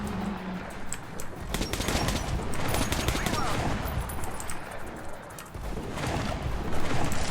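Gunfire from premium ammunition in Metro Last Light, loud rapid bursts of shots crackling over a dense, noisy battle backdrop, with a brief pause before firing resumes.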